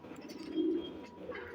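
Pigeons coo softly in a low, brief burst near the middle, with faint background noise and no talking.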